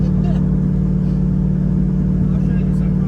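Audi engine droning steadily while driving, a loud constant low hum from inside the car with slight throttle variation, no clear distinct downshift blips.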